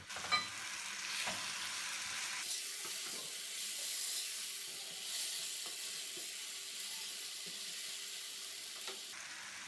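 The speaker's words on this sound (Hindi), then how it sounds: "फिर इसमें मैश किए हुए बैंगन डाल लें।" Mashed brinjal fries in a pan, a steady bright sizzle that swells after a couple of seconds, with occasional scraping stirs and light clinks throughout.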